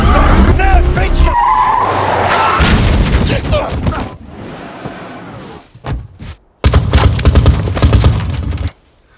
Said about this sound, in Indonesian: Donnie dan Nick dikagetkan dengan rentetan tembakan dari kelompok Marco dan Pug yang mencoba menghadang mereka